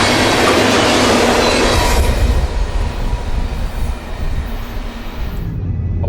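Freight train hauled by CSX locomotives running at about 50 mph, a loud close roar of wheels and cars with rhythmic clatter and squeal, fading toward the end.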